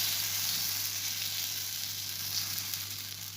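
Rice kurunai dosai batter cooking in oil on a hot pan, giving a continuous soft hiss and crackle, steady and close with no voices.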